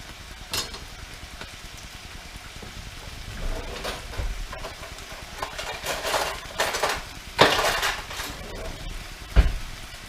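Mushrooms sizzle quietly in a hot pan for a chicken fajita recipe, a soft steady crackle broken by a few sharp clinks and scrapes of a utensil.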